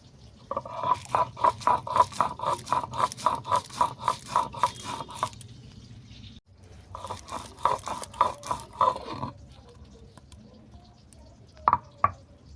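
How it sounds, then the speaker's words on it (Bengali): Sesame and poppy seeds are ground by hand on a stone, giving a steady run of rhythmic scraping, crunching strokes in two bursts, close and clear, with no talk. "ওদিকে মাছ ভাজা হতে হতে আমি তিল আর পোস্তটাকে বেটে নেব।"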